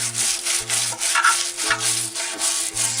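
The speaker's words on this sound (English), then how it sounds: "scrape everything off that you can get off that's loose." Hand scraper working loose old paint off a garden pot being restored, steady rhythmic rasping strokes about every half second, close and fairly loud with no talk.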